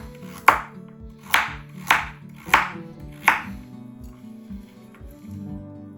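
Knife chopping carrots into small pieces on a cutting board, five crisp evenly spaced chops about one second apart, close and clear, then quiet handling noise.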